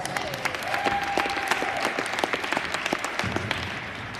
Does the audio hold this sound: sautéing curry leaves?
no